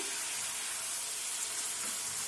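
Water poured into a kadai of sizzling tomato, ginger and garlic sets off a loud, steady hiss of frying that runs unbroken throughout, with no voices.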